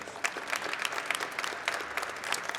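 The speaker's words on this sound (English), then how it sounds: "And that deserves a round of applause" Audience applause at a Trans Awareness Month kickoff and flag raising, a fairly faint, sustained patter of many hands clapping with a few sharper claps standing out.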